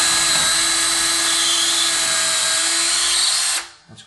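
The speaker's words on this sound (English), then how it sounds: "And then I'll drill those pilot bits." A power drill whines loudly and steadily at high speed for several seconds drilling pilot holes into a floor, then winds down and stops, leaving a few faint clicks.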